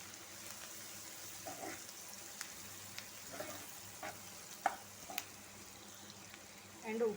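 Sliced onions with dried red chillies and turmeric frying quietly in a pan, a faint steady sizzle with occasional light spoon taps and scrapes.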